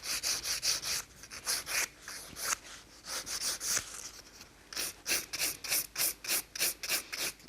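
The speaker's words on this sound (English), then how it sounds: "You're going to file this nail." A nail file rasps across a glitter gel stiletto nail, quick rhythmic back-and-forth strokes in bursts with short pauses, close and fairly soft.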